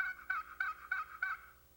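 A wooden paddle-style turkey box call worked back and forth up close, giving five evenly spaced raspy yelping strokes that sound like a hen turkey.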